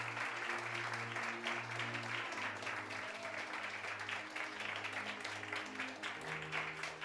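Church congregation applauding, a steady wash of many hands clapping at moderate distance, with a sustained low organ or keyboard tone underneath.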